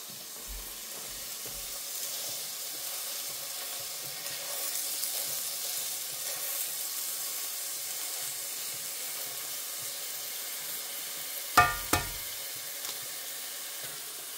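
Leftover steak sizzles in a frying pan with a steady, fairly quiet hiss, broken near the end by a couple of sharp clunks of pan or utensil.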